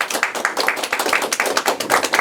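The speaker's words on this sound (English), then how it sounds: "Everybody, can we give them a round of applause?" Audience at a Lake County School District No. 7 board meeting applauding board members, a dense, steady patter of hand claps from a room of people lasting a couple of seconds, fairly close and even.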